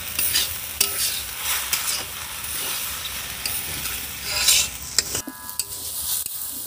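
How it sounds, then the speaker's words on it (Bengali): Khichuri with soybean stirred in a frying pot, a spoon scraping and turning the mixture against a steady hiss of sizzling, with a few sharp metallic clinks near the end. "এটা ভালো করে একটু নেড়ে চেড়ে বন্ধু নিতে হবে"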